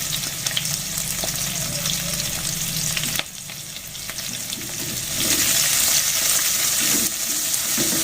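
Onions sizzle steadily in a hot pan for Indian shrimp curry, a loud continuous frying hiss with occasional stirring scrapes, briefly dipping then rising again louder.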